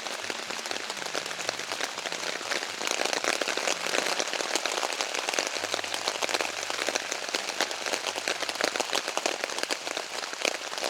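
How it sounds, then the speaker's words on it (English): Steady rain drums on a tent at night on a trail thru-hike, a dense, close patter of drops hitting taut fabric that continues without a break and without any talk. "this is the first real rain this tent's been in"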